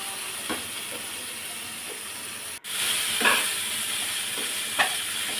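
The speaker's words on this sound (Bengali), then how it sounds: "ভালোভাবে একটু ভেজে নিচ্ছি" Hilsa fish frying in a pan with lemon juice, a steady hissing sizzle that briefly cuts out and returns louder, with occasional stirring scrapes.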